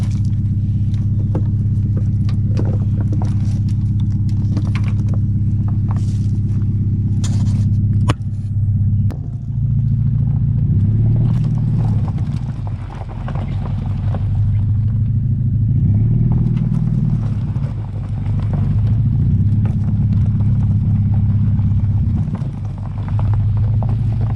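A homemade four-wheel-steer UTV driving, its loud low engine droning steadily and close, with shifting rumble and occasional rattles and clatter from the chassis.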